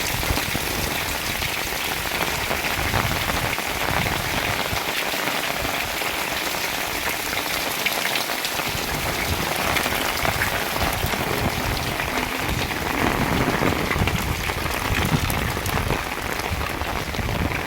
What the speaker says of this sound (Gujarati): બહુ વરસાદ પડે છે